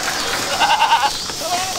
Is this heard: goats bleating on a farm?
yes